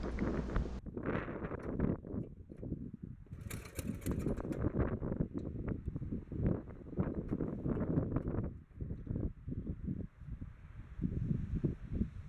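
Strong gusty wind buffets the microphone outdoors beside a Wheel Horse 704 garden tractor, with heavy rumbling blasts rising and falling throughout and brief lulls between gusts.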